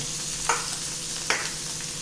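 Chopped capsicum, tomato and cabbage sautéing in a pan for Gujarati moong pulao, a steady low sizzle with two sharper stirring scrapes, close and fairly loud, no voices.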